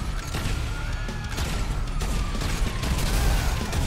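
Mines detonate under a car in GTA Online, blowing out the tires until the vehicle itself explodes; dense, loud rumbling blasts and crackling bursts run continuously with no pauses.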